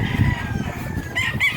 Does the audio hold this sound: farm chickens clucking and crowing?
yes